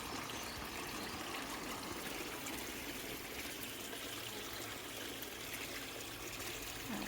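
Water trickles steadily into a garden fish pond in an English garden, a soft, continuous wash of flowing water with no voices over it.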